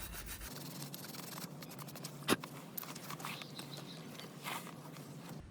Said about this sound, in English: we're going to use a small wire brush just to get in the crevice here